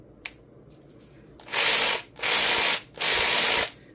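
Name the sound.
WorkPro cordless ratchet running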